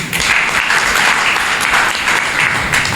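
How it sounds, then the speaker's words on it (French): A loud, dense round of applause from an audience at a convention signing between cassava farmers and a chamber of commerce fills the space, continuous and close. "je voudrais que vous puissiez vraiment l'applaudir encore grandement"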